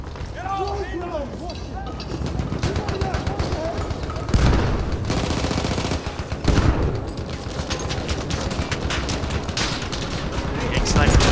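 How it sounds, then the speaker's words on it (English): Sniper and other gunfire in the Battlefield 1 video game on PC, with repeated shots and bursts over a busy battlefield din, under voices talking. "Getting sniped."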